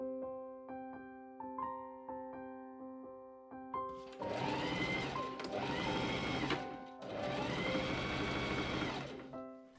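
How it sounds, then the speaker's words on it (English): A sewing machine stitches the seams of a Victorian gown, starting with soft tapping and winding-down clicks, then running in three long steady whirring bursts with short pauses between, close and alone. "I pinned the body of the gown up and machine sew the seams,"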